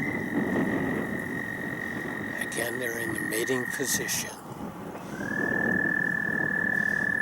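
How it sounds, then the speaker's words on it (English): Frogs or toads croak steadily near water, a dense continuous chorus, while a person speaks briefly over it and a high whistle-like tone runs through. "Here's a couple of the toads, partially in the water."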